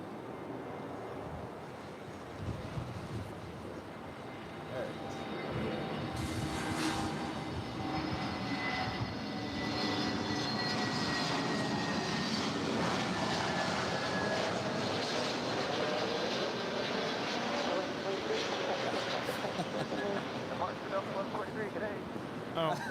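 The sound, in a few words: Western Global Airlines MD-11 freighter landing at LAX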